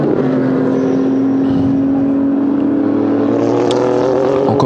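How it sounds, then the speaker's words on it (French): A Porsche race car lapping the sunny Paul Ricard circuit in France, its engine a loud, continuous, close-up drone with a steady high-pitched whine held throughout. "Alexis Berthet qui essaye toujours de résister face à Maxime Minguy sur la Porsche du Brest Motorsport"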